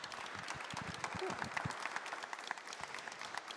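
Audience applauding inside a church, a steady wash of many hands clapping at moderate distance, fairly soft and continuous, with voices murmuring faintly underneath.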